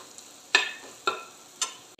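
Turmeric powder is sautéed in a pan for a Kerala green gram stir-fry. Three distinct spatula strokes each raise a short, crisp sizzle that fades before the next, and no one speaks.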